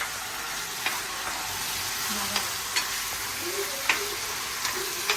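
Ground masala paste hisses and sizzles among browned onions for a Hyderabadi chicken, a steady frying hiss with periodic spoon knocks and scrapes against the pan.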